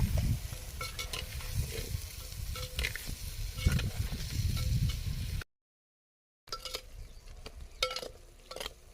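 Eggplant with tamarind powder sautés in a pan, a soft low sizzle under repeated scraping strokes of a spoon and light clinks, then a brief silent gap before stirring resumes.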